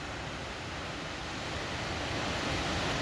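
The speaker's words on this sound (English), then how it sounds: "We're at the waterfall." Steady, loud broadband rush of water pouring over the waterfall at Cummins Falls, filling the scene continuously with no breaks or voices.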